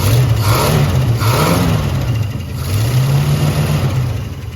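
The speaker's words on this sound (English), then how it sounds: "Now it does sound like it's got a mist and multiple exhaust leaks." A rough, loud 1970 Jeep Wagoneer engine, misfiring and with multiple exhaust leaks, runs steadily nearby, its low rumble wavering slightly in pitch with a raspy, leaky exhaust edge.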